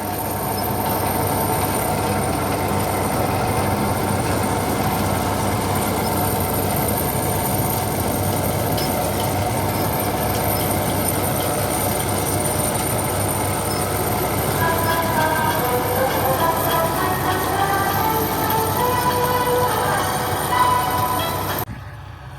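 A tractor runs steadily with a 60-cut rotavator up front and a super seeder behind, sowing in a slightly damp field, its engine a continuous loud drone with a rattling mechanical texture throughout.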